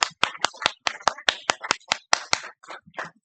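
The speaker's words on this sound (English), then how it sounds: "Mr. Mayor, could we just give that award a hand clap?" Sharp, separate hand claps at a city commission meeting, a brief round of applause for an award, close and distinct, fading toward the end.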